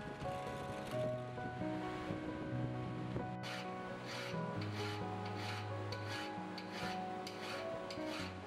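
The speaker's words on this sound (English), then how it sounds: "I'm just basically cleaning up the hole." A brass wire wheel scrubs steadily inside a drilled hole in angle iron being forged into a blacksmith's feather hook, a continuous close rasping hiss with a droning motor hum, with no pauses and no talking.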